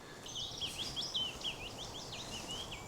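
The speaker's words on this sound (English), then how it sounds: "So even though you can hear this willow warbler and I can hear this willow warbler" A willow warbler sings outdoors, its high, descending whistled phrases repeating across the whole stretch, fairly faint and somewhat distant, with a steady insect-like hiss in the background.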